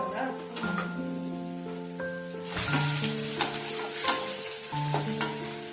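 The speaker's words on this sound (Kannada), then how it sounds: "ಈರುಳ್ಳಿದು ಹಸಿ ಸ್ಮೆಲ್ಲೆಲ್ಲ ಹೋಗೋವರೆಗೂ ಹುರ್ಕೋಬೇಕು" Onions frying in a pan for egg masala sizzle steadily and close up, with repeated stirring scrapes and tonal clinks throughout, no voices.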